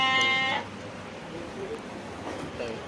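At a livestock sale in Vemulawada, Telangana, a sheep or lamb gives one short, close bleat, followed by quieter open-air background noise.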